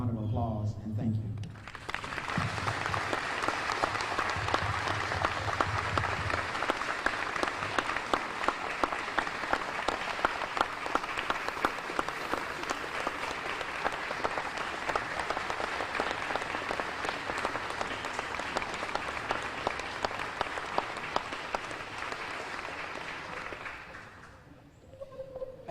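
A crowd at an outdoor memorial garden ceremony gives veterans a long, steady round of applause that swells in after a brief quiet start, holds evenly for over twenty seconds, then fades at the end.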